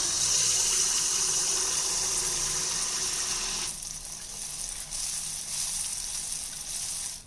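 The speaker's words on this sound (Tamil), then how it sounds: "இப்போ ஒரு குழிக்கரண்டியில் மாவு எடுத்து எண்ணெய்க்குள்ளே விட்டுறலாம்" Wheat flour appam batter fries in hot oil with a steady, close bubbling sizzle that drops somewhat in level halfway through and keeps crackling softly to the end.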